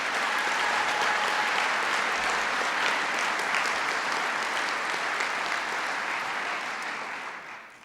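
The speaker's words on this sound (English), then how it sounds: "Please give them a big round of applause." A large audience at a formal government event on higher education breaks into a big round of applause, dense and sustained, holding steady before trailing off at the end.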